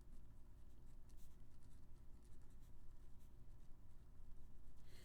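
Pen scratching across paper while notes are written by hand, a steady soft scribbling with brief strokes, close and quiet over a low background hum.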